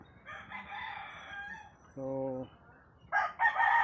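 A tall rooster crows close by in a short, loud call, with softer clucking and crowing around it; someone speaks briefly.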